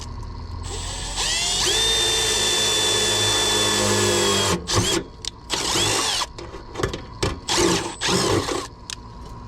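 A power drill drives self-tapping screws into a metal strap on an AC unit: one long whining run of several seconds, then a series of short, stuttering bursts as the screws seat, close and loud.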